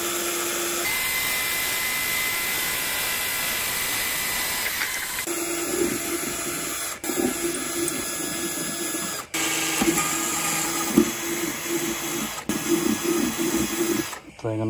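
Drilling through an acrylic tarantula enclosure with a larger bit, a steady whining motor with a grinding, buzzing bite into the plastic, running continuously and then in several short bursts with brief pauses between.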